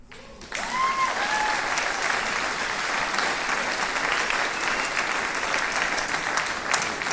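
A concert band audience breaks into applause after a faint brief tone. Many hands clap in a full, sustained wash that stays loud and even to the end.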